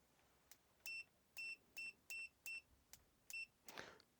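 Proster FS999L multimeter in manual continuity mode emits a series of about six short, clean electronic beeps at an uneven rhythm, close and clear, followed by a brief rustle.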